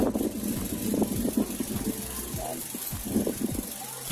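A car engine idling after about thirty minutes of warm-up running before an automatic transmission fluid check, a low steady rumble close by with scattered clicks and handling noises over it.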